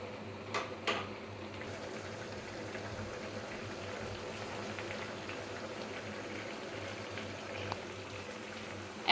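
Water boiling in a pan with two bay leaves for a thin parshe fish curry with potatoes and long beans, producing a faint, steady low bubbling that continues without a break.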